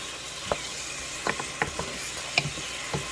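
Chicken masala frying in a pan with butter and garlic, giving a steady soft sizzle punctuated by several sharp clicks and scrapes of stirring at irregular intervals, with no talking.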